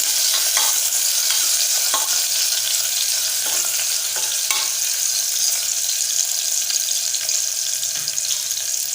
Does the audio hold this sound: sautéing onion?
yes